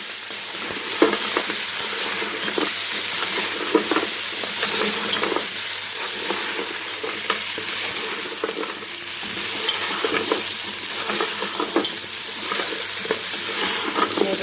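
Salt, crushed red chili and cumin seeds being stirred into a sizzling pulao base in a pot, a steady bright frying hiss with scattered scraping stir clicks throughout, close and continuous, no voices.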